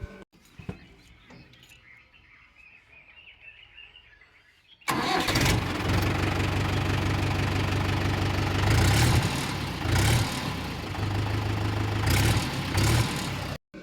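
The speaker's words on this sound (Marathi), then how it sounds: "आता बघू चावी लावून ट्रॅक्टर एकाच्या चालू होतं का नाही" A tractor engine catches on the first turn of the key after a few seconds of quiet with birds chirping, then settles into a loud, steady diesel idle with a brief revving surge.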